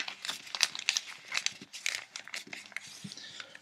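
A real paper banknote being handled, giving close, dry crinkling and rustling with short crackles and flicks throughout, alone without talk.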